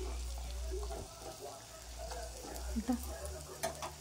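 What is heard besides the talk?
brinjal frying in oil with salt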